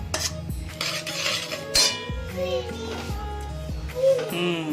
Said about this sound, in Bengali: তাই আমরা কড়াইটা একটু শিফট করে নিচ্ছি